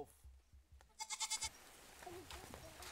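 Local goats near a gorilla forest in Africa, with one goat letting out a loud, quavering bleat in the middle, set between scattered thumps and low background murmur.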